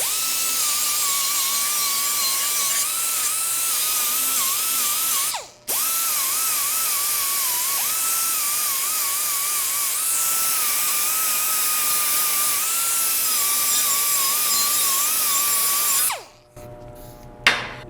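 A die grinder fitted with a 60 grit quick-change sanding disc grinds sharp edges off a piece of metal, a loud steady high whine with a brief cut-off near the middle, running alone and close.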